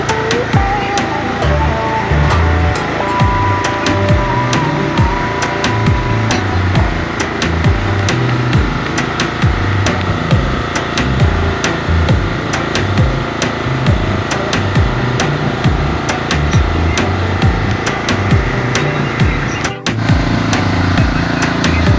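A misting fogger machine engine sprays for dengue along a creek area, running loud and close with a choppy, uneven stutter as it misfires, its rough beat continuing throughout.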